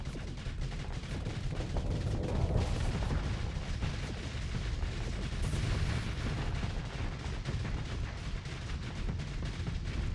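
Torpedoes launching in a Starsector space battle, heard as a dense, continuous roar of booming, crackling weapon fire that stays loud and steady throughout.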